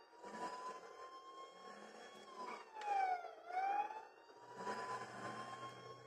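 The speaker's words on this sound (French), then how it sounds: "J'active les sirènes." A police-style siren is switched on in the video game GTA Online. Its wailing tone sweeps up and down over a steady engine and background hum, fairly faint and alone.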